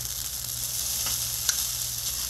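Creamy Tuscan shrimp sauce with spaghetti bubbling on an oiled Blackstone griddle, making a continuous close hiss and sizzle with faint pops, heard alone without any talking.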